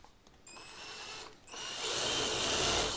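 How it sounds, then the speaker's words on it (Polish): Electric drill boring a pilot hole while mounting fuses in a photovoltaic installation, a whining motor that dips briefly then rises into a steady, louder grind. "Teraz mi troszeczkę wiertło ucieka."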